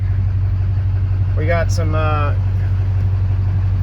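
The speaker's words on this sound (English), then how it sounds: "the truck runs, gets started, doesn't have to have too bad a start" A Chevy 2500HD Duramax diesel truck idles with a steady low rumble throughout, while someone briefly speaks over it.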